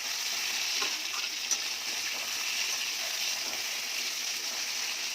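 Eggplant slices frying in oil in a pan, with a continuous bright sizzle and crackle that stays close and even throughout.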